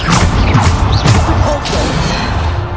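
Bombarda spells go off in a Hogwarts Legacy fight, a loud rush of crashing, whooshing impacts and thuds packed close together, tangled with other combat effects.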